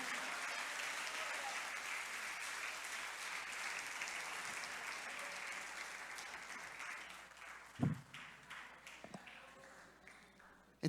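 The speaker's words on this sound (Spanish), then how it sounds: "Démosle un aplauso al Señor, al Rey de Gloria." A church congregation claps together in sustained, even applause that slowly fades, followed by a few scattered late claps and faint voices.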